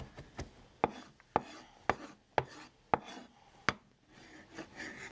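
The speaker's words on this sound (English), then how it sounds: "We're going to make about a tablespoon of fresh diced tarragon here." A knife coarsely chops fresh tarragon on a board, about eight or nine sharp, close knocks at an uneven, unhurried rhythm with soft rustling between them and no talk.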